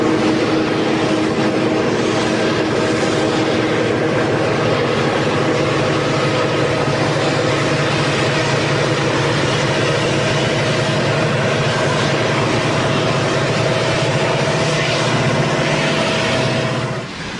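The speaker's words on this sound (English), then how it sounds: "diesels like this Amtrak F40 skim through Cruzette without pause" Amtrak F40 diesel locomotive passing through Cruzette on the Cascade line without stopping, a loud, steady engine roar with sustained tonal drone holding evenly throughout, no voices.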